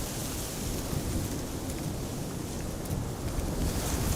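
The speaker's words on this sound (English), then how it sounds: "To me it feels like the wind is getting more gusty" Gusty wind blows at Amsterdam Schiphol Airport during Storm Bert, a loud, steady roar of broadband rushing buffeting the microphone, with no voices.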